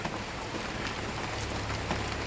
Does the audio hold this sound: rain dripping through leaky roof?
yes